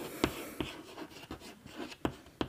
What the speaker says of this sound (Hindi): तो यहाँ पर लिखते हैं स्टेबिलिटी ऑर्डर